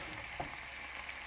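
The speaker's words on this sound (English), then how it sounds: "So we're frying up some Canadian bacon for lunch." Canadian bacon fries in a Swedish Army messkit over a hot stove flame indoors, a steady faint sizzle throughout with no talking.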